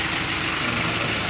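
A 2023 Mitsubishi L300 engine, freshly fitted with a new turbo, idles steadily and loudly nearby, a constant rumbling hum with no break.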